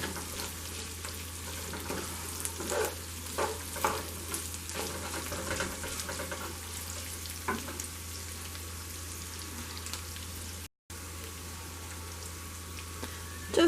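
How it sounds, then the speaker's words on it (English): Onions and meat fry in a pan with a soft, continuous sizzle over a low hum, punctuated by occasional scraping and clinks as the mixture is stirred. "I was just stirring everything up, letting it all cook in there. Get the onions cooked real good"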